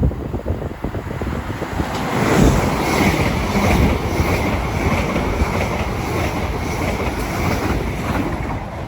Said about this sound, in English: we're going to have a Elizabeth Line service passing from Abbey to Maidenhead